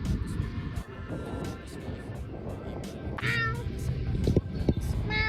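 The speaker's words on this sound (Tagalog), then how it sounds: "Pusa ko." A cat meows a couple of times over a busy background of rumbling traffic and murmured voices.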